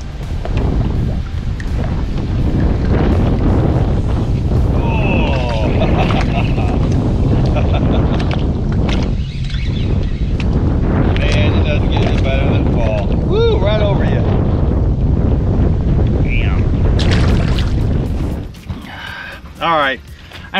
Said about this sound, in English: I had to get out of the wind.